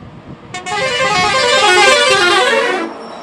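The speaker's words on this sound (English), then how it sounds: "As the buses zoomed past the highways and swirled round the bends" A bus horn blares loudly in one long sustained honk on a highway, with road and engine noise beneath, starting abruptly and cutting off near the end.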